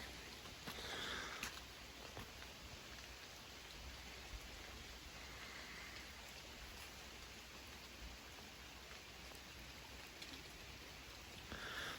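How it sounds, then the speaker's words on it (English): Heavy rain pours down steadily in the Adirondacks, a dense, even hiss of drops with no break. "So it is raining like mad."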